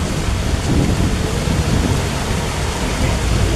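Steady heavy rain pours down with a dense, rushing wash of noise and low rumbling, continuous throughout with no voices.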